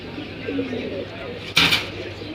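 Pigeons coo softly amid the crowded bustle of the Jinjira pigeon market, with people talking nearby and a brief clatter near the end.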